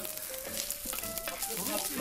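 Egg fried rice sizzles and pops in a hot pan as it is stir-fried, a steady dense crackle with scraping and stirring strokes, close and fairly loud without talk.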